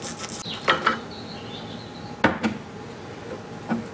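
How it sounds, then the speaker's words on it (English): A pulley slid off the shaft of a Toro Greensmaster Flex21 reel mower, giving a few separate metallic scrapes and knocks spaced over several seconds, close and fairly quiet with no talking. "Now we will slide this pulley out."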